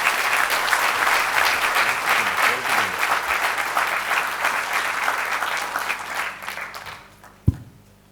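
Audience at a Tamil debate-forum stage event giving a loud, sustained round of applause that gradually fades, ending with a single sharp thump.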